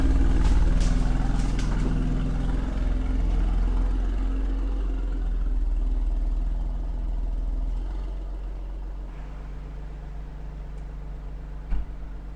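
An Alfa Romeo Stelvio Quadrifoglio engine with its exhaust valves open, a loud, deep rumbling idle with throaty low-end burble that settles slightly quieter, ending with one sharp pop.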